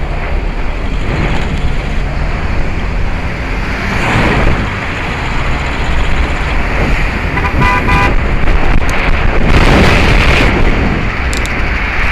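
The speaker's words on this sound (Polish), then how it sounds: "te trąbienie. Nie wiadomo dlaczego" Car horns honk amid loud, steady traffic noise and wind rumble, with a couple of short toots standing out near the end.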